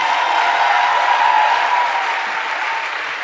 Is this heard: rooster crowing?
no